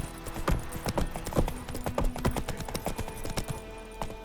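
Roach the horse gallops in The Witcher 3, with rapid, rhythmic clip-clop hoofbeats up close and fairly loud, unbroken by any talking.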